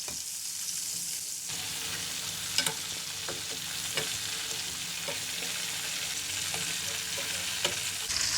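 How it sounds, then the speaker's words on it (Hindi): Chicken pieces fry in a pan for pulao with a soft, continuous sizzle, broken by occasional light clicks and scrapes of stirring. "इसी तरह हम ये दूसरा भी चिकन फ्राई कर लेंगे"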